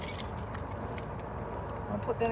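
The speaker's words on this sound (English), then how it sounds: "Keys. Keys are here." A bunch of keys jangles close up in brief metallic bursts, with soft handling sounds and quiet background noise between the jingles.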